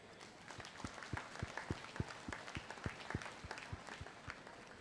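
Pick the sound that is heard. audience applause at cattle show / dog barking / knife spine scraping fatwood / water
audience applause at cattle show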